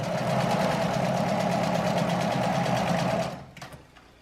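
A home sewing machine stitches a hem in a steady, rapid, close mechanical whir for about three seconds, then slows and stops, followed by a few faint clicks.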